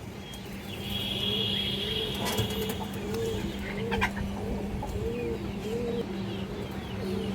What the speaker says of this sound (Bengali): একটা বেজি নর কবুতর